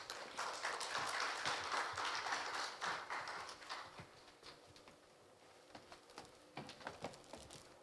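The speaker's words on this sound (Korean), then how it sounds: "공정식 교수님을 박수로 맞아주시면 고맙겠습니다" Attendees at a Korea University public hearing clap to welcome a professor to the stage, a dense round that thins after a few seconds into scattered, sparse claps.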